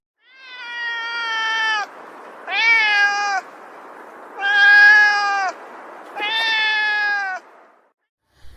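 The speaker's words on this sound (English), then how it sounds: "Listen to the audio of cat meowing." A domestic cat meows four times in a row, each call drawn out and nasal with short pauses between, close to the microphone and clear against a faint hiss.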